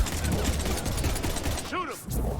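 Sustained gunfire in the video game Mass Effect 3, a dense, loud stream of rapid shots throughout with a brief swooping effect near the end.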